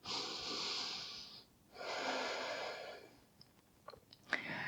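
Slow, deliberate yoga breaths during a detox flow class: a long airy inhale, a short pause, then a second drawn-out breath, heard close and alone, followed by a few soft clicks and a quick nasal sniff.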